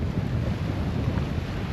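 Steady wind and water rushing past a sailboat with a large sail running before the wind and sea at the start of a passage, a continuous broad roar with no talking.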